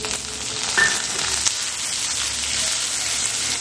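Onions and tomatoes frying in a pan, a steady close sizzle with a faint stirring scrape, continuous and alone without talk.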